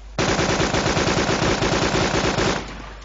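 Sustained automatic-weapon fire in the DayZ video game rattles off in a rapid, evenly spaced burst of close, loud shots lasting about two and a half seconds before cutting off.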